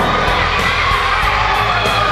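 Crowd at an arm wrestling event cheering and yelling continuously, with whoops and shouts blending into a loud, dense roar throughout.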